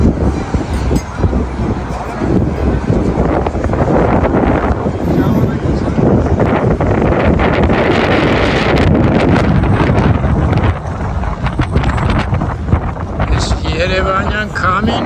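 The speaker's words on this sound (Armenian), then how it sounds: "Երևանյան քամին երեկոյան" The evening wind on a rooftop concert venue in Yerevan buffets the microphone with loud, continuous rumbling and rustling gusts that last throughout.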